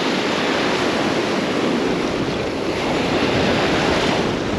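Surf breaking on a sandbar beyond an inshore beach gutter, mixed with wind buffeting the microphone: a constant, loud broadband wash with no pauses and no voices.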